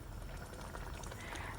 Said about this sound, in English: So now I'm going to pour it into my pots and add the desired quantity of water.